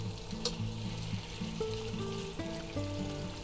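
Hot Italian sausages sizzle in a pan after being flipped, a steady close frying hiss with a few soft clicks, under a sustained tonal hum, no talking.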